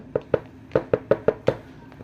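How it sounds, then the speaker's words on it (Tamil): Knocking on a door: six or so sharp, close raps in an uneven, hurried run, each a short hollow thud, with no voices. "இன்னும் இவ்வளோ வேகமாக கதவை தட்டுறாங்க"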